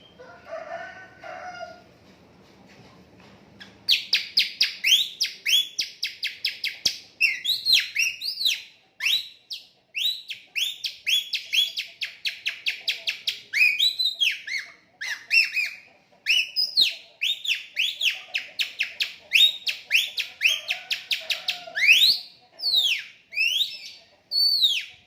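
A person imitates magpie-robin birdsong by sucking air through a thinned-out used plastic bag pressed to the mouth, producing loud, rapid runs of shrill whistles and chirps in repeated bursts, alone without talk.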